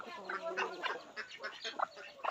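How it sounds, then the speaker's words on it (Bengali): Chinese and Belgian domestic ducks quack close by in a rapid, irregular series of nasal calls. "আর এখানে দেখেন আমাদের চীনা হাঁস, বেলজিয়াম দেশি হাঁস সবগুলো দেখেন।"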